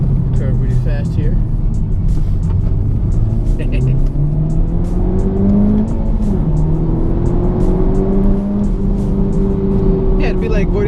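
A manual car taken fast through a curve on a back road, its engine droning and rising in pitch steadily under continuous talking inside the cabin.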